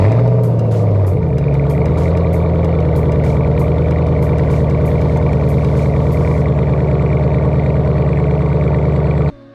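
A 2009 Ford Mustang GT V8 starts cold: the starter cranks briefly, then the engine catches into a loud, steady, rumbling high idle close by before it cuts off suddenly at the end.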